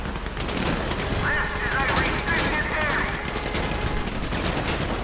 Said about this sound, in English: So I guess we shooting our way out of here.